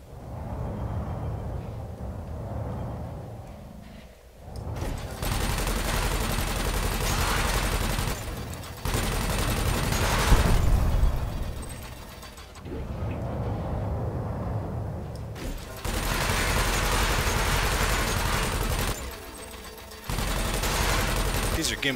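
Gimbaled guns on a combat aircraft in a flight combat game fire in long sustained bursts of rapid fire, stopping and restarting several times over engine noise, loud and close.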